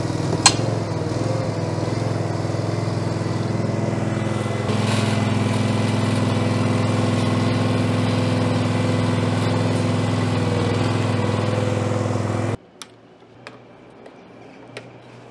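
Westermann CM2 cubicle brush machine engine on a farm, starting with a sharp catch and settling into a steady, loud mid-pitched running drone for about twelve seconds, then cutting off to near silence with a few faint clicks.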